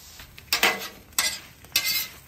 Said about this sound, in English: All right, I'll just kind of mix them all together.